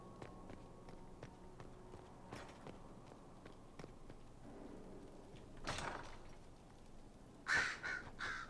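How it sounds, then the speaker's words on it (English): Crows caw in the Dragon Age: Inquisition video game, harsh scattered calls near and far over quiet ambience, mixed with footsteps and soft shuffling movement, with one sharp louder caw near the end. "So many crows."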